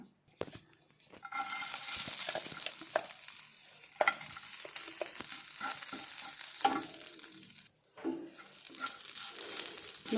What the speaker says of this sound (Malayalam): നമുക്ക് തേങ്ങ വറുത്തെടുക്കാം